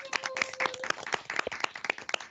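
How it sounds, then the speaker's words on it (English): A crowd claps steadily, many hands overlapping in a dense, bright patter that holds at an even level throughout. "So let's give a round of applause"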